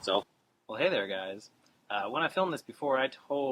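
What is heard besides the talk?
None of the usual background noises is heard.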